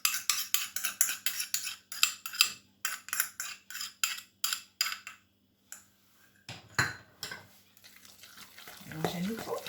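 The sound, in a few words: stirring a mixture with ketchup using a fork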